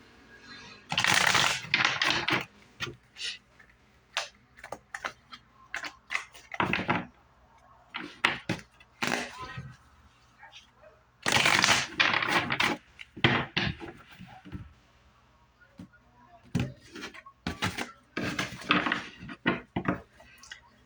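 Repeated bursts of tarot cards being shuffled by hand, crisp papery riffles and slaps coming in clusters with short pauses between, close and fairly loud.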